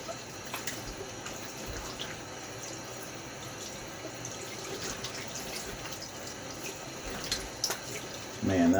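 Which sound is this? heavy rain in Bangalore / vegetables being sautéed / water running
water running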